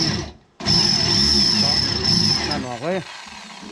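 A power drill whirs steadily for a couple of seconds, close by, during a 10-inch subwoofer box install in an Isuzu All New Hi-Lander, then winds down as someone speaks briefly.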